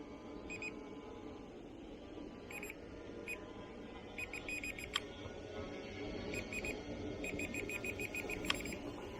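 An SJRC F11 quadcopter beeps in repeated bursts of short high tones, grouped in clusters with gaps between them, over a continuous rushing drone hum.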